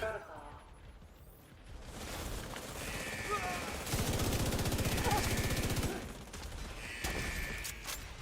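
A weapon fires steadily in The Division video game during pre-firing, with rapid rattling bursts and mechanical clatter. Someone talks over the shooting.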